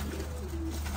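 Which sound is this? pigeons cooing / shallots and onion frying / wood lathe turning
pigeons cooing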